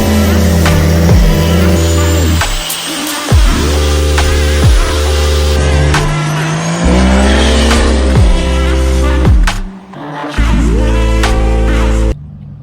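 A car launching off a transmission brake: the engine revs loud and close, then releases into hard acceleration with tire squeal and screeching pitch sweeps through repeated gear changes before a sudden cutoff and another high-rev burst.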